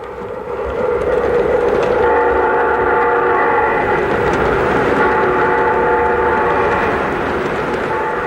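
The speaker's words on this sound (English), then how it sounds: "equipped with sound systems that include diesel engine and air compressor sounds, bells, and digitally recorded diesel horn sounds" A model O gauge diesel locomotive's sound system: a digitally recorded diesel engine rumbles steadily while a sustained diesel horn tone sounds over it, loud and continuous throughout.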